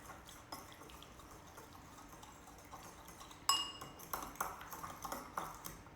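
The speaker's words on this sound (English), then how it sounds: "Stir it in." Water being stirred into a salad dressing in a glass bowl, quiet at first, then a sharp clink of utensil against the bowl followed by lighter repeated clinks and tapping from the stirring.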